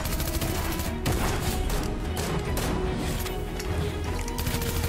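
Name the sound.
gunfire from the video game Fortnite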